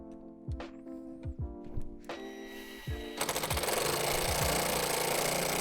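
A power drill drives screws into the hinge hardware of a plastic Lifetime horizontal storage shed, several short whirring bursts separated by pauses, then a sustained rattling run of the drill as the screw goes in, close and loud.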